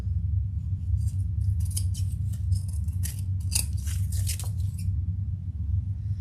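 Scissors trim sewing material in a run of quick, crisp snips over a steady low hum, fairly close and a little faint, with the cutting stopping before the end and no talk.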